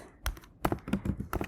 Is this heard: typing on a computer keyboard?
yes